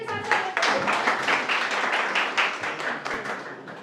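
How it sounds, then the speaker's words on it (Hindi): An audience at a classes meet-up claps to thank Kavita ma'am, brisk steady applause filling the whole moment at moderate volume. "आप सभी जोरदार तालियों से जो है कविता मैम का धन्यवाद करें।"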